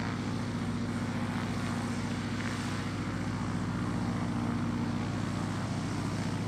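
An old Junkers F-13 propeller aircraft engine drones steadily and continuously with a low, throbbing hum, close and fairly loud, with no voices.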